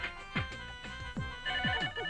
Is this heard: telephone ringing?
yes